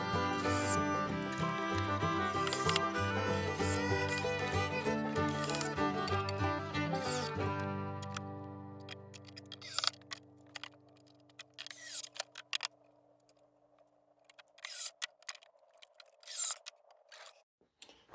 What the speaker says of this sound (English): and then just start putting the screws in.